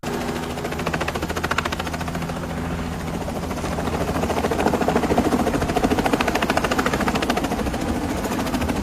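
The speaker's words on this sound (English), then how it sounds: "that helicopter's spinning." Helicopter rotors thump in a fast, steady rhythm under a droning engine, loud and continuous throughout.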